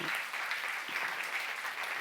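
A church youth congregation bursts into dense, continuous applause during a sermon. Many hands clap together in a steady wash that holds for about two seconds, with no talking over it.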